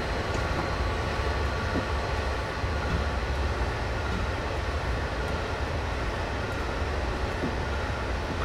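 A Union Pacific freight train with auto cars in a train simulator video game rumbles steadily past with constant broadband clatter and low roar, loud and continuous throughout, no talking.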